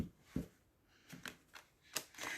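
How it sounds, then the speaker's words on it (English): Cards are shuffled by hand in a few quick, soft riffling bursts separated by short pauses, close and quiet. "I need to shuffle once more"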